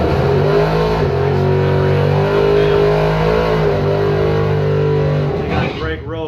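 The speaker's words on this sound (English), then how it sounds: "Aaron Boris burning out there first, the Danny Nelson dragster racecraft out of East Jordan" A 403 cubic inch dragster does a loud, sustained burnout at a drag race, its engine roaring steadily for several seconds before tapering off, with an announcer talking over it.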